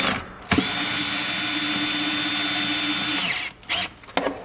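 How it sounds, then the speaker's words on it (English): A power driver runs a T25 screw back into a bottom connection on a Sprinter van, one loud steady whir lasting about three seconds, then stopping, with a few short clicks and handling knocks after. "Take our T25, screw it back in on this bottom connection."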